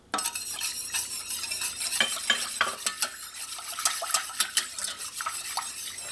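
A coconut popsicle mixture being whisked in a bowl, quick rhythmic clinking and scraping of the whisk, close and fairly loud, no talking.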